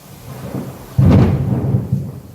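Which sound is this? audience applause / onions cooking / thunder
thunder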